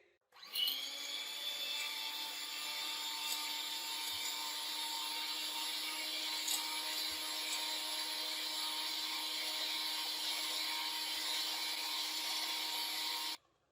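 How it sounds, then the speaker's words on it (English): Egg whites whisked in a bowl, heard as a steady, close, motorized whirring drone that starts abruptly, runs evenly for about thirteen seconds and then cuts off, alone without speech. "I have a third bowl जिसमें egg white है. I'm gonna whisk it."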